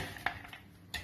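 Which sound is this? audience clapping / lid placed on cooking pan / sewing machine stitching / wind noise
lid placed on cooking pan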